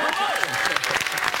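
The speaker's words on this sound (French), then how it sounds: "On vient d'applaudir des équipes qui gagnent des points." Studio audience clapping for teams that have just won points on a French game show, a steady dense wash of applause throughout, loud and close.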